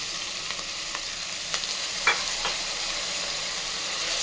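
Pulao masala with peas, coriander and mint fries in a pan as tomato goes in, giving a continuous hissing sizzle broken by a few light scraping and tapping strokes of stirring.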